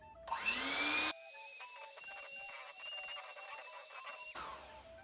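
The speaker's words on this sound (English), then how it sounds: "I'm gonna be using my hand mixer for this." An electric hand mixer with few speed settings beats thick cinnamon roll dough, a loud motor whine at first, then a steadier, lower drone that runs for several seconds before spinning down.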